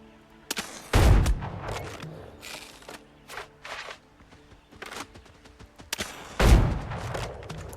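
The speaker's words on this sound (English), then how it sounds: "I'm going to wait for it to stop and then I'm going to shoot it in the head" Gunshots aimed at a monster in the game Windrose: two heavy, booming shots about five seconds apart, each rising from quieter clatter and scattered smaller cracks, with no talking.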